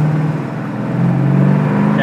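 A 1972 Plymouth Cuda with a six-pack engine accelerating on the road, heard from inside as a close, loud engine drone whose pitch and volume rise partway through, with voices in the cabin.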